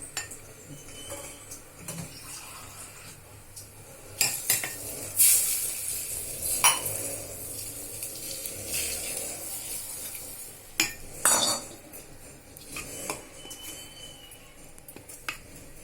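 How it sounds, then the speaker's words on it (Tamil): Appam batter being mixed in a bowl, with scattered clinks and scrapes of a utensil against the vessel, irregular and moderately close, with no voices. "நல்லா மாவை கரைச்சிக்கிறாங்க."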